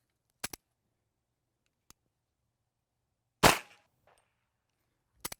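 Gunshots fired at targets while aligning sights: a few sharp cracks spaced irregularly, one louder close report midway and a quick double shot at the end, with quiet stretches between.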